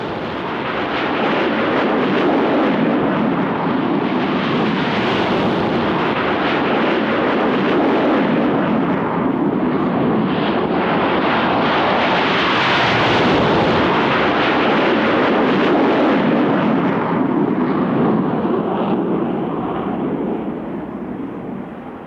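Several McDonnell Douglas Phantom FGR-2 jets of 56 Squadron scramble, a loud, sustained roar of jet engines that swells and holds steady for the whole stretch with no voices.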